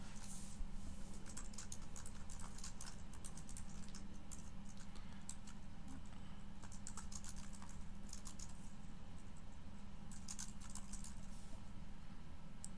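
Rapid keystrokes on a computer keyboard as a welcome message is typed into a WordPress website, steady clicking bursts close up with a low background hum and no speech.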